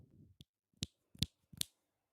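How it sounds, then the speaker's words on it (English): Sharp single claps ring out in a quiet concert space, first a faint one and then three louder, crisp hits spaced evenly about every 0.4 seconds, each standing alone in near silence. "You heard the clap."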